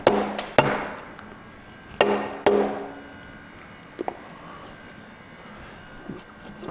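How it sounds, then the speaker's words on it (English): The cylinder head of a Flathead V8 engine being knocked loose, sharp metallic hammer strikes, several spaced blows with some ringing decay, loud and close, followed by lighter taps. "I should be able to bop this head gasket off"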